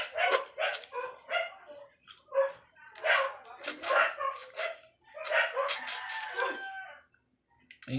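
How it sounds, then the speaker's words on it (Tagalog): Several dogs bark in irregular bursts at moderate distance, with a rooster-like call mixed in and people talking over the noise. "Ingay ng mga aso."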